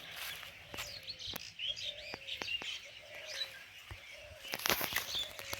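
Birds chirp and call repeatedly in an open palash forest, with several overlapping short tweets and whistles at moderate distance over a soft steady background.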